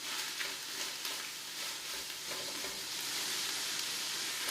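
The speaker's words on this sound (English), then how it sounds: "as I'm moving around, and you can kind of hear that sticking noise" Ground beef sizzles and sticks in a pot of chili as it is stirred, giving a steady close frying hiss with small scraping crackles throughout and no talking.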